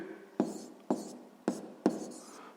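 Pen or chalk writing out a sixth-grade math answer, four short, sharp tapping strokes at a steady pace, close and fairly quiet with no talking.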